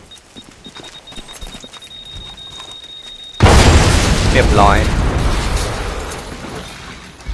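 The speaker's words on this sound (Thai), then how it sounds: "ระเบิดทำงานแล้วนะครับ" A planted bomb goes off at a door in the game Hitman Absolution: after a quiet stretch with someone talking, a sudden loud blast with a splintering crack rings out, then a long rumbling decay fades slowly.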